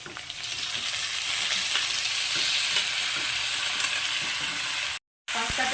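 Sambar pasta tossed with fried onions in a pan over a high flame gives a loud, continuous sizzle with stirring scrapes, then cuts out briefly near the end.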